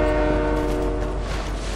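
A loud, sustained train horn blares over the rumble of a passing train in an online shooter game, steady and close for the whole moment.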